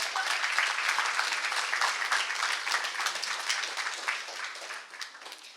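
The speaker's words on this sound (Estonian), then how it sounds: "Aplaus sellele." An audience applauds steadily and densely for several seconds at the opening event of the Bright Minds school students' business idea competition at TTÜ Mektory, fading only slightly toward the end.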